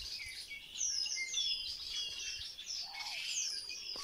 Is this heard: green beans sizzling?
no